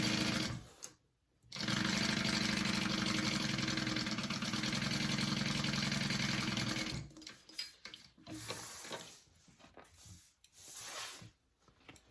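Sewing machine stitching a half-inch seam along the top of a PacSac bag, with a brief start, a pause, then a long steady loud run of stitching, followed by shorter bursts and handling noises up close.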